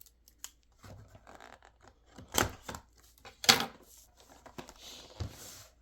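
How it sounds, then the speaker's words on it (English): Scissors snip through tape on a Hot Wheels car package, with sharp separate cuts and small crinkles near the microphone in an otherwise quiet room. "we're going to cut that one open."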